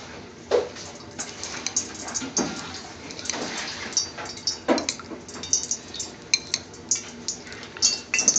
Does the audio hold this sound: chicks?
no